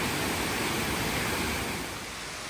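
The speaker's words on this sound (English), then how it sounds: "It is a beautiful waterfall" Waimaku Falls, a very high set of waterfalls on Maui, Hawaii, sends up a steady, dense broadband rush of falling water that fills the whole clip and eases slightly toward the end.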